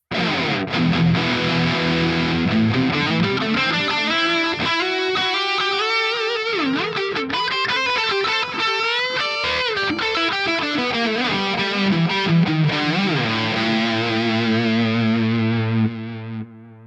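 A heavily distorted electric guitar through a Mooer GE150 processor's lead preset with noise gate plays a sustained lead line with bends and slides, loud and continuous before cutting off at the end.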